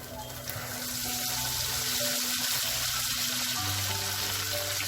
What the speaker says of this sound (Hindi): अब ये बैटर हम इस होल के पास ही डालेंगे।